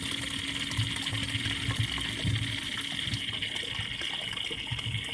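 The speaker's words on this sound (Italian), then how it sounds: "È potente l'acqua frizzante." Sparkling water gushes from a public water dispenser in a constant, loud rushing stream with a faint mechanical hum of a pump underneath, steady throughout without pauses.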